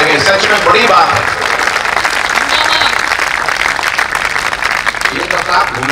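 A kavi sammelan poetry recital crowd applauds loudly and continuously for several seconds, a thick, close wash of clapping with voices mixed in.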